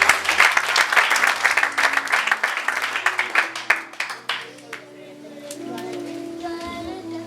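Church congregation applauding together, a dense burst of clapping that thins and fades after about five seconds, followed by low sustained organ or keyboard tones.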